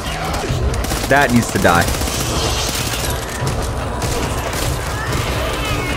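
Rapid bursts of gunfire from a recoil-heavy gun in the zombie shooter game Back 4 Blood, loud and dense throughout, with a player speaking briefly over the shots.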